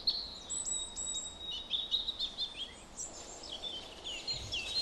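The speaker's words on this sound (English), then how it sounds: "I see and hear old acquaintances, like the robin." A robin sings in a forest in March sunlight, delivering high, thin, warbling phrases with brief pauses between them over a quiet woodland background, with no voices.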